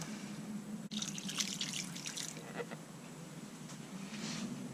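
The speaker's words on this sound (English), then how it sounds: "I will just add another maybe cup of water." Water pours briefly into a cooking pot of vegetables with a splashing rush, then settles into a quieter trickle against a constant background hum.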